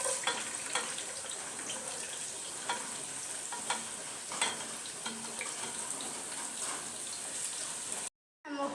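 Vegetables frying in hot ghee in a pan sizzle steadily at close range, broken by scattered clicks and scrapes of stirring, before a brief cut to silence near the end.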